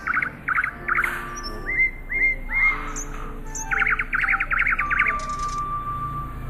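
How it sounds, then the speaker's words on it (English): A nightingale sings alone and close, bright repeated chirping phrases in quick bursts of four or five notes, with short gliding whistles between the bursts. "The nightingale sang so sweetly that the emperor had tears in his eyes."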